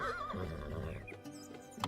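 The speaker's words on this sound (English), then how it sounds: "He brought the horse to Musa's house" A horse whinnies loudly and shakily at the start, followed by low snorting and a faint hoof knock near the end, close by with no talking.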